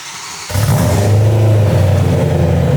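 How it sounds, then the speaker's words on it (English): After a brief starter whir, a BMW engine cold-starts loudly and holds a deep, raspy high idle through a titanium Valvetronic exhaust, close by. "First, cold start, titanium,"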